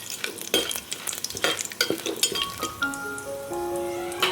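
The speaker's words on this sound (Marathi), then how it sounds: "हे खडे मसाले छान आपल्याला असे तेलामध्ये मस्त भाजून घ्यायचे" Whole cinnamon and bay leaf sizzle in hot oil in a pan while a spoon stirs and clinks against the metal, with crackling bursts and scraping up close and a faint tonal hum toward the end.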